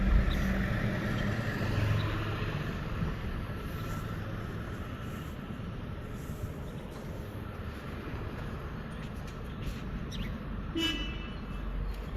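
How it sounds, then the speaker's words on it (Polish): A car horn honks amid steady, rumbling street traffic noise, with vehicles passing close by throughout. "Dlaczego pan trąbi, trąbi na mnie?"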